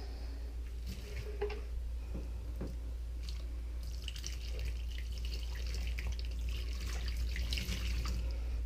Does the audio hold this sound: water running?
yes